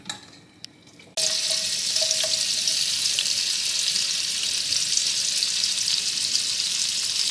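Dumplings drop into hot oil and fry with a loud, steady sizzle and crackle that starts abruptly after a quieter second and holds close and continuous to the end.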